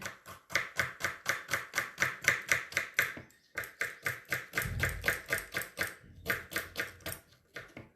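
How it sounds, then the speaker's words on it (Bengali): Rapid, steady chopping of onion with a very sharp kitchen knife on a board, crisp rhythmic strikes in quick bursts with a short pause, close and loud with no talking. "চাকুটার ভীষণ ধার, কাটতে সুন্দর, মানে সুন্দর কাটা হয়ে যাচ্ছে চাকুতে।"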